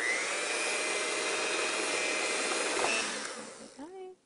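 An electric hand mixer creams whisked eggs into muffin batter, a steady loud whir that runs for about three seconds before slowing and cutting out, with a brief voice at the end.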